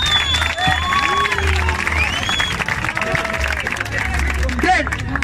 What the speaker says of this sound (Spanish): así que otro aplauso por eso